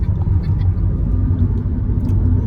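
Car cruising in sixth gear on a highway during a road trip from Tuljapur to Mahurgad in India; a steady, close, loud low engine and road rumble that runs unbroken throughout, with no talk.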